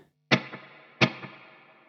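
Two sharp electric guitar strums through an amp delay effect, each followed by a fainter delayed repeat that trails off with a long, distorted, shimmering decay.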